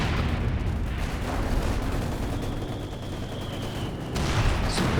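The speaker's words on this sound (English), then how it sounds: "Good job dodging the mortar shells so far." Mortar shells explode in a Company of Heroes 2 battle, a dense, rumbling barrage of blasts and gunfire that keeps up without a break, with a brief whine in the middle.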